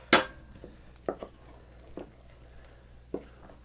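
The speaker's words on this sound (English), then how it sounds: "Going to add in the flour now. Mix that in there." Flour stirred into potato pancake batter in a bowl, heard as a few scattered clinks and soft scrapes of a utensil against the bowl, quiet and close with pauses between.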